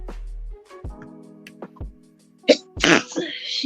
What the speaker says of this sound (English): What kind of sneeze is that?